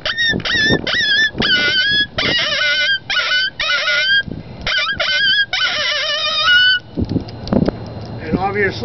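A cow horn howler imitating a young dog pup, about nine months old, gives a rapid series of loud, close honking yelps and whimpers in quick bursts, then a few rougher, lower calls near the end.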